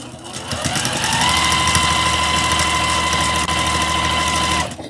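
A Juki sewing machine stitches a quarter-inch quilting seam down a big quilt block, a loud, steady, fast mechanical whir with a rapid needle rattle that spins up, holds evenly for about four seconds, then stops.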